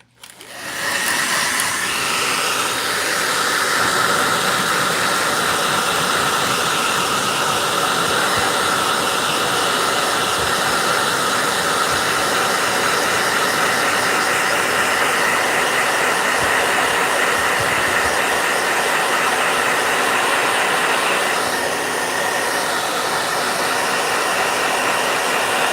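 A blow dryer runs loud and steady for the whole stretch, a continuous close whoosh of air starting abruptly and holding an even tone throughout, with no talking.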